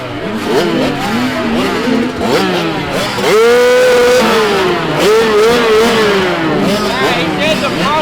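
A motocross bike at an MSXC race fires up and revs in rising and falling whines, loud and close, with other engines and people talking around it.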